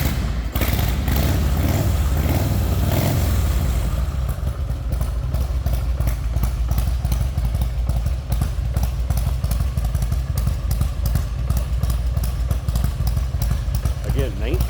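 A cold-natured 1993 Harley-Davidson FXDWG Wide Glide fires up with a loud rumbling start, then settles into a steady, loping V-twin idle heard up close.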